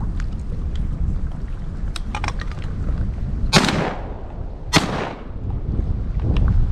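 Two sharp shotgun blasts during a duck hunt, spaced about a second apart with trailing echoes, heard over steady outdoor noise and a few faint clicks.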